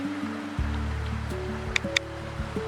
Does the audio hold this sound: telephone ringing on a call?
no